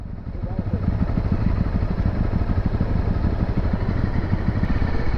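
A motorcycle engine rumbles steadily nearby as a Honda CRF250L Rally is ridden through city streets, with voices talking over the engine noise.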